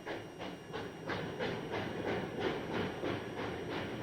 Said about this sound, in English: 3759 eases her train away from the platform one last time